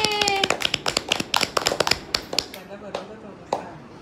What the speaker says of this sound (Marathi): टाळ्याचा वाजवा.